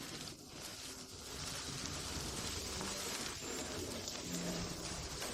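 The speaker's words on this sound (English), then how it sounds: "Wow, what a downpour." A heavy rain downpour hisses in a dense, continuous wash, with scattered drips and splashes standing out close by at a moderate, steady level.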